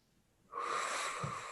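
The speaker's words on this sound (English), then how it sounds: "Take a deep inhale." One long, deep inhale, close and airy, swells up suddenly and is held steady for about a second during a guided meditation breathing exercise.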